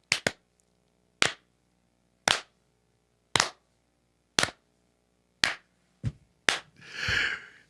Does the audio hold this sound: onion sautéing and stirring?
no